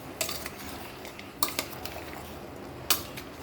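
Utensil scraping and clinking against a pot while mixing spices and cumin into chopped ridge gourd, several sharp metallic taps over faint background stirring, close and fairly quiet.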